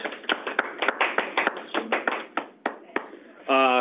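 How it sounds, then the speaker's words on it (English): A small group gives a round of applause at a meeting, with sharp, irregular claps that thin out over a few seconds before a tone cuts in at the end. "Let's give Garrett a round of applause."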